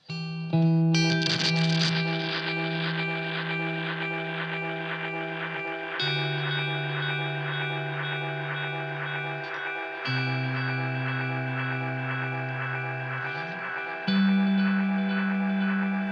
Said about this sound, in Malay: I'm gonna add a bit of reverb